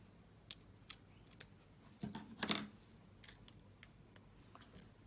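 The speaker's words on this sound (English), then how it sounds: "And then I can cut that excess off there." Scissors snip away excess paper during card-making, a few crisp, close cuts with a quicker cluster of snips near the middle, set against a quiet room.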